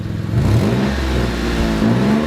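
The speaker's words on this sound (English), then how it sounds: "That's the poorly patched exhaust." A car with a poorly patched exhaust revs twice up close, its engine note rising and falling with a raspy, buzzing edge, loud and alone.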